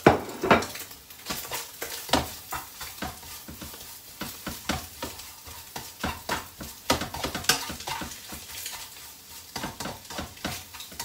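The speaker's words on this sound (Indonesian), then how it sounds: "Ini digaringin sampai bawang bombay dan telurnya garing." Onion and egg stir-frying in a pan for bihun goreng, the ingredients cooking toward crisp; a steady sizzle runs throughout with repeated scraping and clinking of a spatula or utensil against the pan, and no one talks.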